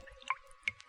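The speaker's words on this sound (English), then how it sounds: "The sound you hear is dripping blood." A dripping blood sound effect from the opening of the horror film Black Sunday: two distinct wet drips, faint and close, falling about a third of a second apart over near silence.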